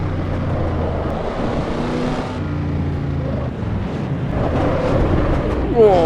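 A Chevrolet Camaro with an H-pattern shifter drives in the racing game Assetto Corsa Evo, its engine droning and revving steadily with a rising pitch near the end, while someone talks over it.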